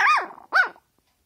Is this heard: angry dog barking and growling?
yes